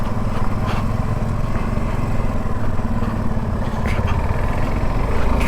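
A motorbike engine labouring on a rough off-road mountain track on the way to Sandakphu, a steady loud drone with rattling clatter running throughout, close by.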